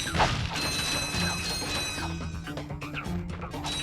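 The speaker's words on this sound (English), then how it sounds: "I pretty much break every box in my path" Wooden crates smashed in Ratchet & Clank on the planets Veldin and Novalis, a quick succession of crashing breaks and mechanical clatter over steady game music and ambience.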